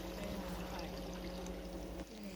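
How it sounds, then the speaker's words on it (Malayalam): Water poured from a measuring vessel into a pot for fish biryani, a steady close pour that continues and then briefly eases near the end. "നമുക്കിതിലേക്ക് വെള്ളം ഒഴിച്ചു കൊടുക്കാം"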